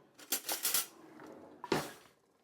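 Metal kitchen utensils clatter as a large spoon is pulled from a drawer, a quick cluster of bright clinks followed by a pause and one more clanking knock, close and fairly quiet.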